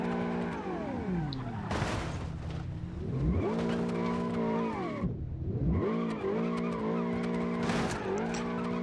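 A car in a racing game with no downforce spins out, its tires squealing in long, sweeping, pitch-bending screeches over a revving engine that drops and climbs again, loud and close throughout.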